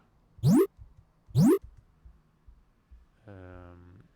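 Two quick rising chirpy bleeps, then a short buzzy square-wave tone, like a retro 8-bit game pickup effect, clean and close with no talking.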